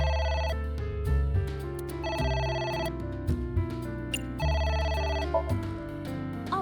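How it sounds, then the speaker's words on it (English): A telephone rings in the video game AI: The Somnium Files, a bright electronic ringtone in repeating bursts over a low background music bed, with no voices. "It's ringing again."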